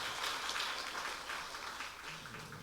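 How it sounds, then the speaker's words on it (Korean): A church congregation at a Sunday worship service applauds, a continuous, even wash of clapping from many hands that fills the whole moment. "박수 한번 부탁드립니다"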